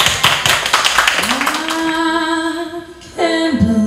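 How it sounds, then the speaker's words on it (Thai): An audience at a school English camp music show applauds, a burst of loud clapping that fades within about a second as a singer starts a sustained note. "ขอเสียงปรบมือหน่อยค่ะ"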